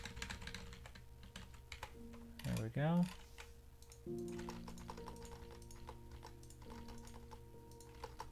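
Quick bursts of keyboard typing clatter close by, broken up by a short spoken remark and a brief tonal sound in the middle.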